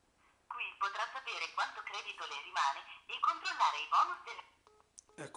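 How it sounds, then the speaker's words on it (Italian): An Alcatel One Touch 282 phone on speakerphone during a call, a voice talking through the small, thin-sounding loudspeaker with a tinny, band-limited tone, ending with faint key beeps. "il viva voce è anche piuttosto forte e secondo me si sente anche piuttosto bene"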